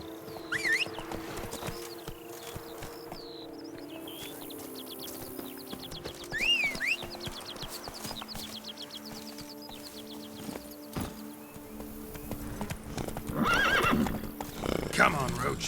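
Roach the horse in a video game whinnies several times while hooves clip-clop steadily at a walking pace, with voices heard faintly beneath.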